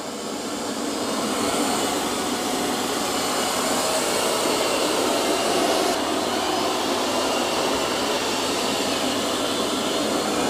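A eufy X10 Pro Omni robot vacuum mops muddy paw prints off a floor, giving a steady, close whirring drone of motor and airflow that holds even for the whole stretch, with no talking.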